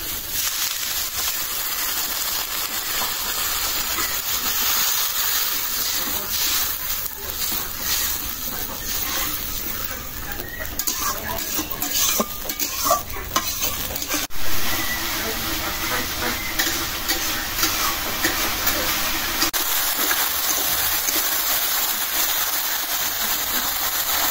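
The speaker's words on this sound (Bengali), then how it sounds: "এখন একটু পানি দিয়ে কষাবো।" Water poured into a pan of masala frying in oil sets off a steady, loud hiss and sizzle that runs throughout, with a few faint clatters as the spice paste is stirred and cooked for a chicken and potato curry.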